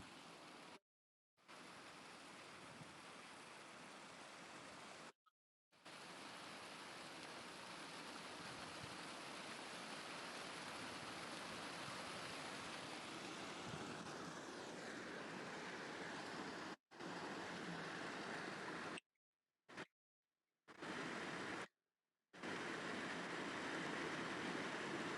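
Water flows steadily in a big, rushing stream along the Trent and Mersey Canal during a walk from Forest Park to Hanley Park in cold weather. The broadband roar is continuous and close, broken by several short gaps of silence.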